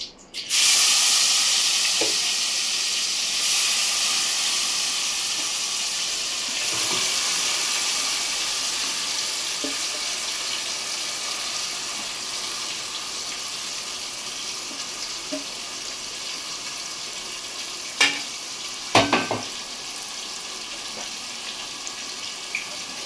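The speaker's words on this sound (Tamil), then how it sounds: "ஆயில் நல்லா ஹீட் ஆகிடுச்சு. இப்போ நம்ம மேக்னேட் பண்ணி வச்சுருக்கோம் சிக்கன் எடுத்து போட்டுக்கலாம்." Marinated chicken for restaurant-style chicken angara frying in well-heated oil over a high flame: a loud, steady broadband sizzle and hiss that bursts up at the start and then fades gradually, with a few small clicks and pops late on.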